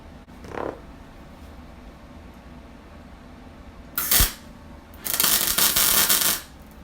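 A MIG welder tacks a steel door-hinge bracket on a 1955 Chevy truck: a short crackling burst, then a longer, steady buzzing hiss of about a second and a half, heard up close over a quiet room.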